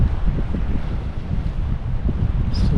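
Steady wind buffets the microphone on a Norwegian shore, a continuous low rumbling roar with gusty fluctuations and no voices.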